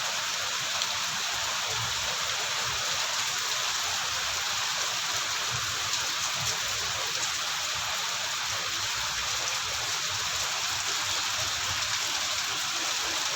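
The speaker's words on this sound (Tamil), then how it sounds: "கனமழை தொடர்கின்றது" Heavy rain pours down in Mayiladuthurai, India, in a dense, steady hiss, unbroken and fairly close, with no voices.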